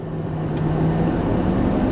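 A 2025 Ford F350 HO Power Stroke diesel pickup, towing down a grade in 7th gear with the exhaust brake engaged, gives a loud, steady low drone that holds evenly throughout.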